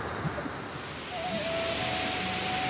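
A steady, full-bodied roar of the Harvalem waterfall in Goa, beside an ancient Shiva temple, fills the whole stretch at a constant level with no voices.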